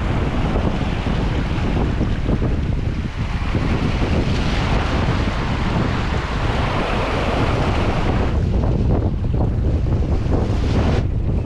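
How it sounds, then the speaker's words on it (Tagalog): Loud waves churn and slosh at sea amid heavy wind noise, a continuous rushing roar that eases slightly in the final seconds. "Ito na yung alon."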